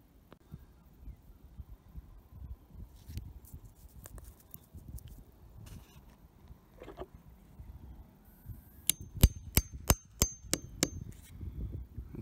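A series of sharp metallic taps from a hammer tapping sap tubing spouts into a tree, about seven quick ringing strikes near the end with the pitch changing, after quieter rustling and scattered knocks.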